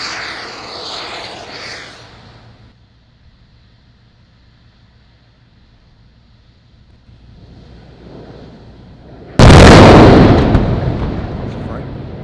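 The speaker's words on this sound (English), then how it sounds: "I heard the explosion" SpaceX Super Heavy Booster 7 exploding during a test, heard as a sudden loud, broad blast that roars on and slowly fades after a quieter stretch, with wind-like rumble early on.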